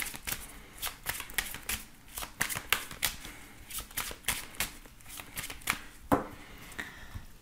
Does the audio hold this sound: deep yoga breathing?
no